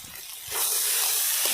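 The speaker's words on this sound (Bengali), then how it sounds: "এক চামচ ঘি দিয়ে দিলাম।" A spoonful of ghee hits hot banana flower curry, a loud sudden hiss that swells and holds as a steady close sizzle.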